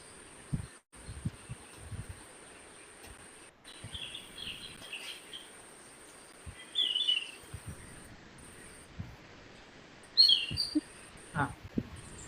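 A bird gives harsh, raspy, barking-like calls in short scattered bursts. They are fairly faint against a steady high background tone and a few soft knocks.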